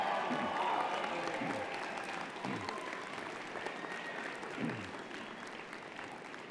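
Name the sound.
graduates cheering and applauding at convocation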